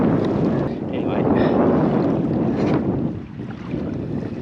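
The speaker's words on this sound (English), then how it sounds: "Right, it's pretty bloody windy," Strong wind blowing across an estuary during a kayak fishing trip, a loud steady rushing roar with microphone buffeting that eases briefly near the end; a voice is faintly present.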